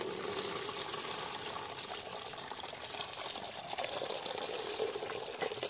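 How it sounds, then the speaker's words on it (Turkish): Homemade rose water being strained, a faint continuous trickle and splash of liquid pouring through a strainer, steady throughout with no talk. "Süzüyorum ben şimdi."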